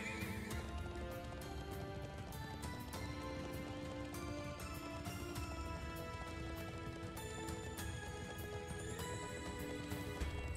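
Called horse in Trails into Reverie neighing and galloping, a clear whinny over quick clip-clopping hoofbeats, heard faintly within busy game music and effects.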